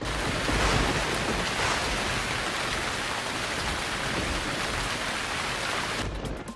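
Heavy, steady rain pouring down, a dense broadband hiss with low rumbling, loud and continuous before cutting off abruptly at the end, with no talk.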